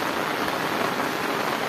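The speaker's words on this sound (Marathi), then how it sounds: "असा पाऊस पडतोय" Heavy downpour on a village in rural Rajapur, Konkan, a dense steady hiss of rain pounding surfaces, loud and continuous with no voices.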